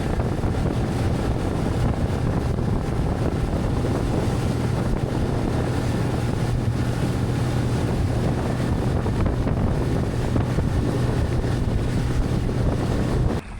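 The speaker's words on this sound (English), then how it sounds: "We're just going to be taking back Uncle Tim's boat" Steady wind buffets the microphone while a boat's motor hums low and constant on the water near an off-grid cabin, with a continuous wash of waves underneath.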